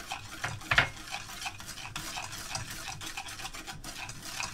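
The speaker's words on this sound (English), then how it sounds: "And just stir it up, get it mixed up." Chocolate pie filling of milks and creams is stirred in a bowl, with soft rhythmic scraping strokes and one brief clink of a utensil early on, close and quiet with no speech.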